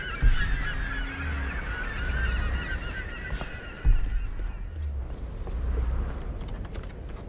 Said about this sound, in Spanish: Las gaviotas